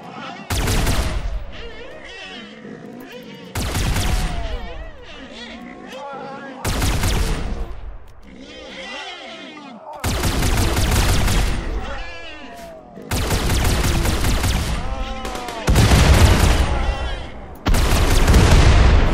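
Repeated bursts of gunfire during target practice in Rimworld with a Warhammer 40k Imperial Guard setting, loud volleys in several separate clusters with short pauses between, some heavy booming shots among them.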